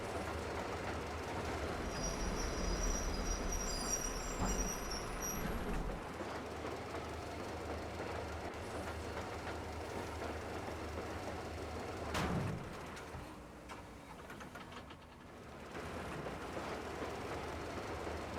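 Train wagons rolling on rails in the Metro Exodus video game, a steady loud rumble with wheel noise and a sharp squeal near the middle, later easing into quieter rolling.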